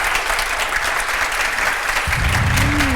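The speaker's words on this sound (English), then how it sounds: "please give them a really warm applause." A room of listeners claps warmly to welcome guests onstage: dense, steady applause that carries throughout at an even level, with a short voice-like tone near the end.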